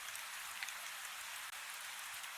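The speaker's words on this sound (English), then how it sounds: "It's rainy today." Steady rain falling on a rainy day, an even dense hiss of drops that fills the whole stretch without pause, fairly close and with no voices over it.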